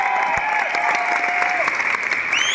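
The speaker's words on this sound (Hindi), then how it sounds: "मैं चाहूंगा एक बार जोरदार तालियां हो जाएंगी" Loud, dense audience applause fills an awards ceremony hall, continuous and even throughout, with faint tonal music beneath.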